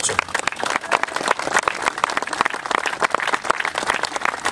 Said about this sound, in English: A big round of applause for these two guys.